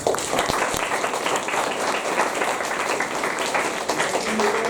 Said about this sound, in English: We clap for her.